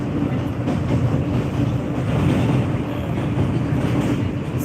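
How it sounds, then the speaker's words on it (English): A subway train rumbles along while switching from the express track back to the local track, a loud, steady low rolling drone with faint rhythmic rattling and no break in the noise. "Now the train is switching over from the express track, going back onto the local track."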